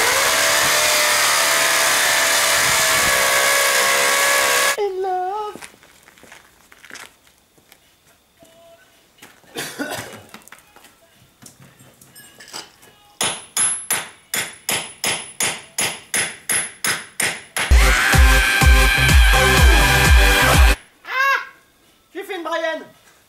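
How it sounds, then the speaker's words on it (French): Power drill and chisel making two holes in a wall during a garage renovation: long, loud bursts of drilling alternate with a run of rhythmic, sharp hammer strikes on the chisel, with quieter gaps between. "Deux trous dans le mur, à la perceuse et au burin."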